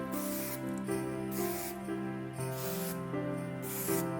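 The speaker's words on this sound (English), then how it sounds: "Spray here in the front." Several short hissing sprays of hairspray, roughly evenly spaced, sound close by over a steady tonal music background.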